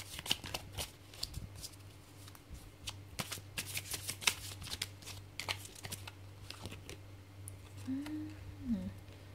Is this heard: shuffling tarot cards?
yes